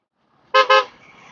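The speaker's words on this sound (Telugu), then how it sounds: "హార్న్ ఎంత యూజ్ చేయగలిగితే అంత యూజ్ చేయండి, బెస్ట్ థింగ్ అది." Two quick, loud beeps from a motorcycle horn on a winding ghat road, a sharp double toot breaking the quiet, followed by a faint trailing hum.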